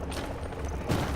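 Gunfire in the Dark Zone of The Division beta, a burst of several muffled in-game shots and booms with a heavier blast near the end, dense and close.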